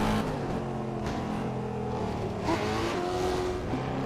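Car engine in a driving simulator game, a steady mid-pitched drone with a rising rev partway through and faint tire noise, continuous and fairly loud with no talking.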